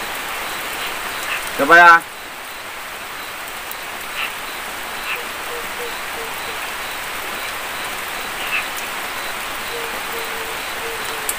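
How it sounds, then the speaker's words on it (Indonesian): Heavy rain pours steadily at night around a hut, a constant hiss of downpour with a brief voice speaking early on over it. "Ini hujan deras teman-teman ya, saya perlihatkan ya."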